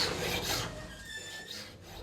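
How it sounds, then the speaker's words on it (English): Wooden tuning pegs for a handmade instrument being sanded down, a few quiet rasping strokes of abrasive against wood, close up and fairly faint. "He was taking the tuning pegs and actually sanding them down so they could fit perfectly."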